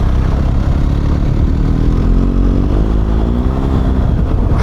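An off-road motorcycle revs hard with its rear wheel spinning on a slippery track in the Bardenas, a loud, close, continuous engine drone with rising pitch and rumbling clatter.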